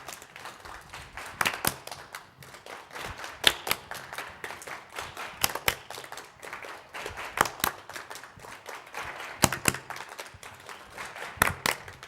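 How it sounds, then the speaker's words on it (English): An audience claps together in a rhythm exercise at a philharmonic speaker event, sharp loud claps landing in regular groups with softer taps filling between, moderately distant in a large room. "So let's clap the 8th notes really loud, but the quarter notes softer"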